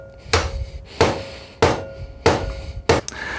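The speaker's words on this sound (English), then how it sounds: "So now we're done with our peening activity." A hammer peens metal on a Daisy Model 94 BB gun, reattaching the saddle-ring loop: five sharp, close strikes spaced roughly every half second to second, each with a short ringing decay.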